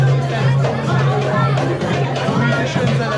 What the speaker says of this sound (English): There's a big crowd right now.